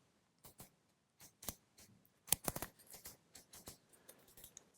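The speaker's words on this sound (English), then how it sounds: "It's very positive when you click them into place." Windage knob on a Midwest Industries AR-15 back-up iron sight clicking into place, a series of sharp, close, crisp detent clicks in irregular bursts with brief pauses, heard alone.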